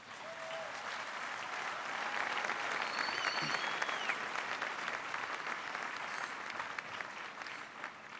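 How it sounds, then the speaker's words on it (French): An audience applauds the armed forces during a French presidential speech, a steady wash of clapping from a large crowd that builds and then holds, with no voices over it. "vous pouvez les applaudir"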